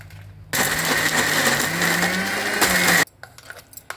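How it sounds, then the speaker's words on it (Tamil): A mixer grinder grinding green turkey berry chutney roars loudly for about two and a half seconds with a steady whirring motor, then cuts off abruptly, leaving faint clattering. "மிக்சியில் போட்டுக்க வேண்டியதான் அரைச்சி எடுத்து"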